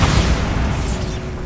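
A Bombarda blasting spell explodes in the Hogwarts Legacy video game, one loud, dense, close blast that fills the moment and rumbles on to the end.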